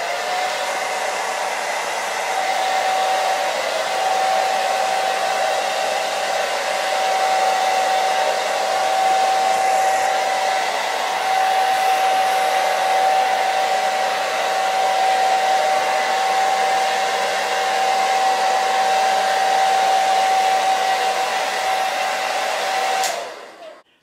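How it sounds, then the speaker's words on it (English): A hair dryer blows steadily and loudly to dry a waterproof cast, holding one even whooshing tone with a constant whine for about twenty-four seconds until it shuts off at the end. "turn it on, and you actually just blow dry it"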